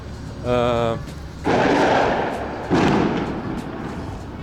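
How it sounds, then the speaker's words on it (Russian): Two heavy booms from fireworks go off nearby in Cochabamba, Bolivia, each trailing into a rumbling decay, preceded by a short voiced sound. "вот эти звуки, которые вы слышите от фейерверков, они раздаются постоянно, просто бесконечно"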